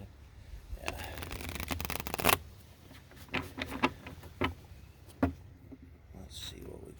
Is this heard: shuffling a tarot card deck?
yes